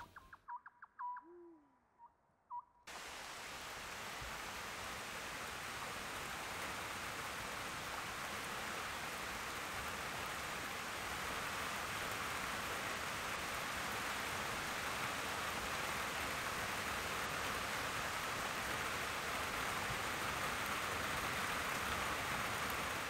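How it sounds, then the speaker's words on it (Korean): Rain falls steadily in a mountain valley, a dense, even hiss that begins abruptly after a few seconds of quiet in which an owl hoots, then holds without a break to the end. "빗소리가 마음과 귓전을 세차게 때리는 오후."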